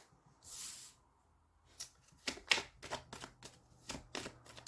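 An oracle deck, the Jeu des Rêves Enchantés, being shuffled by hand: a soft swish, a pause, then a run of quick riffling and slapping bursts of card noise, close and quiet with no talking.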